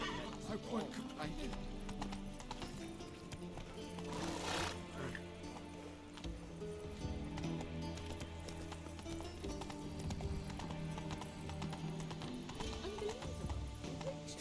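Roach the horse in The Witcher 3 video game, hooves clip-clopping at a run with a neigh, faint and mixed under game music and a voice speaking.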